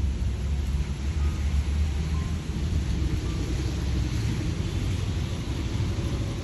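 Heavy rain falls in a dense, steady hiss with a low rumbling undertone, close and constant, with no talking.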